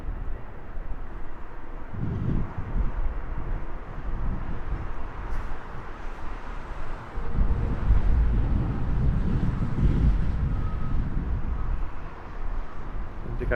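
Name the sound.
strong wind blowing into microphone at Heathrow Airport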